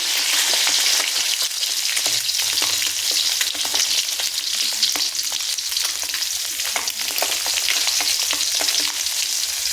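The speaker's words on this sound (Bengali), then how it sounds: "ডিমগুলোকে সুন্দর করে আমি ভেজে নেব" Eggs seasoned with salt and turmeric fry in a pan, giving a loud, continuous close-up sizzle with faint stirring underneath and no voices.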